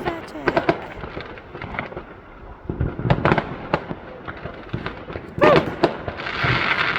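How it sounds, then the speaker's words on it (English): Fireworks burst and crackle on Bonfire Night, a run of sharp pops and bangs scattered near and far, with a louder whistling burst near the end and people talking over them. "It didn't make much of a firework."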